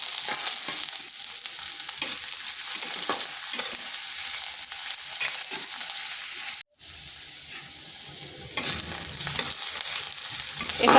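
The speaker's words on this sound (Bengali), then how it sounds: "দিয়ে দিচ্ছি দুটো কাঁচা লঙ্কা।" Green chillies and garlic fry in a pan with a constant close sizzle and light stirring, cut by a brief near-silent gap before the hiss resumes.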